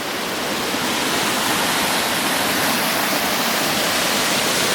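A small waterfall on a stream pours in a loud, constant broadband rush, close and unbroken, with no voices.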